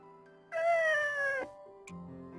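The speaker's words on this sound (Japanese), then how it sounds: "こいつはいつもの黒猫だな。" A black cat in the video game Nights of Azure gives one long, drawn-out meow, clear and close, followed by a short chirp over soft game background music.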